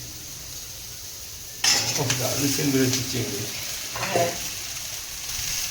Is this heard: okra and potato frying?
yes